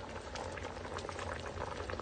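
Crabs boiling in coconut milk in a pot over a wood fire, a soft continuous bubbling and popping simmer, faint and close, with no talk.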